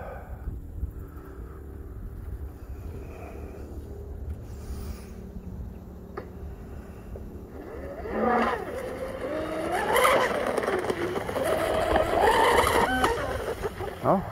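An RC hydroplane boat (UL-19) with a Castle Creations Hydra motor and TP 4060-CM running on rough water, a thin electric whine that starts faint and distant then swells and sweeps up and down in pitch as it passes nearer, with no talking.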